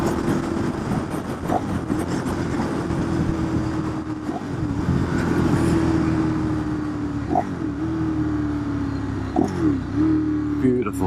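A 2012 Ducati Streetfighter motorcycle engine drones steadily while riding, its tone dipping and rising with gear changes and corners, with wind rushing over the microphone.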